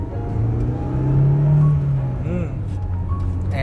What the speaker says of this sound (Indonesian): Nah di mobil ini suara mesin masuk.